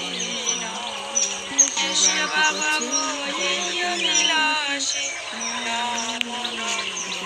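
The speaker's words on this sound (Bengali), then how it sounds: "সকালটা সুন্দর, পাখি কোলাহল শুনতে খুব ভালো লাগে।" Birds chirp and call continuously in the morning, with overlapping tweets over a sustained tonal hum, a busy outdoor chorus at moderate volume.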